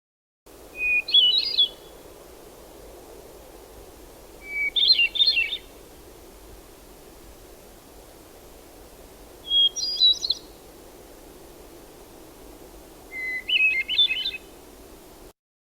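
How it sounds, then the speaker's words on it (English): Hermit thrush song in the field at sunrise: four separate fluty phrases, each opening on a single pure note before a rippling cluster, spaced several seconds apart over a soft steady background hiss. "hermit thrush songs start with a single pure note."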